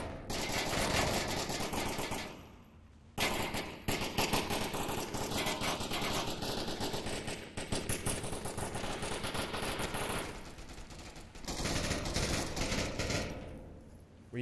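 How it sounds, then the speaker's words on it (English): Automatic gunfire in the VR shooter Onward during an esports match: dense, rapid bursts of rifle fire, loud and sustained, broken by brief pauses, with a short spoken exclamation. "We see a lot of bullets flying, but nothing connecting, though."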